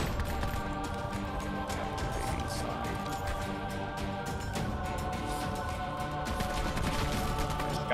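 Rapid automatic gunfire in Black Ops 4, continuous dense shots under a steady game soundtrack with a ringing tonal hum throughout.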